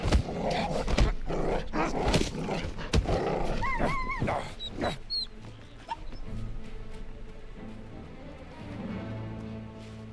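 A dog growls and snarls in the video game Indiana Jones and the Great Circle, with rough bursts and some sharp tonal yelps over a low rumbling background; the growls are close and the creature noises ease off toward the end.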